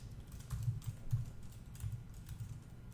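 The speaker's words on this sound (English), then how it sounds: "we type the word img" Close typing on a computer keyboard, a rapid, uneven run of soft key taps that carries on steadily for about three seconds with no voices.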